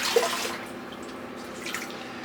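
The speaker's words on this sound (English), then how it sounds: "I didn't mean to turn the water on that loud" Water runs from a bathroom sink tap while shaving with a razor, a steady splashing rush with small drips and gurgles, moderately close and continuous.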